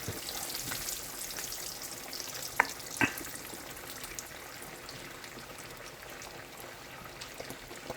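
Fish frying in a pan crackles with a soft, steady sizzle, broken by a couple of sharp clicks and scrapes as a piece is turned over, close and fairly quiet with no talking.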